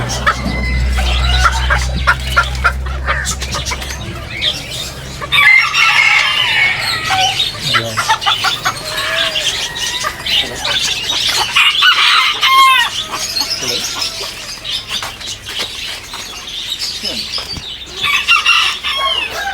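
Flock of chickens in Batticaloa, Sri Lanka, clucking and crowing repeatedly, a rooster call standing out among busy overlapping fowl sounds, close and loud, with some wing flapping.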